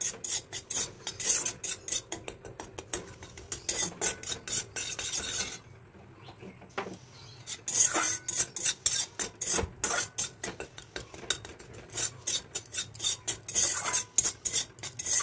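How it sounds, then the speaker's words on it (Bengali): Gram flour being stirred constantly in a pan over low heat, a steady run of quick scraping, rasping strokes with a brief lull midway, no voices. "বেসনটা দিয়ে অল্প আঁচে অনবরত নাড়তে হবে"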